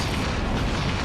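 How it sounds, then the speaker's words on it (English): A missile explosion in Ratchet & Clank 3 HD: a dense, roaring boom that holds at a loud, steady level for about a second with no break. "The missile simply went through."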